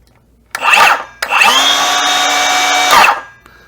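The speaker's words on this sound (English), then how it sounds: "It's got a lot of torque. It's a nice saw." A Milwaukee 2730-20 M18 cordless circular saw revs up in a short burst, spins down, then runs again at a steady, loud whine for about two seconds before winding down, close to the microphone.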